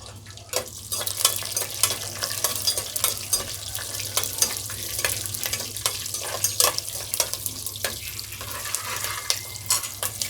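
Green chillies sizzle in hot oil in a pan for liver curry, a dense steady crackle with sharp popping spits scattered throughout, close and fairly loud.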